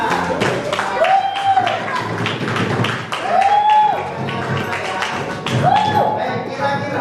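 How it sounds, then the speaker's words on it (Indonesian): Classroom applause from children after a picture-book story, steady dense clapping across the whole stretch with a teacher's voice over it in three short bursts. "Ya baik, tepuk tangan."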